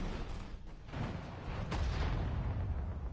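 A tank destroyed by fire in the war strategy game Sudden Strike 4: rumbling artillery booms and explosions over continuous low battlefield noise, with a sharp blast partway through.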